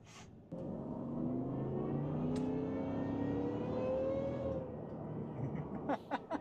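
A truck engine with a Whipple supercharger drives steadily, its engine note rising with a faint supercharger whine, heard from inside the cab. It eases off near the end, when a few clicks sound.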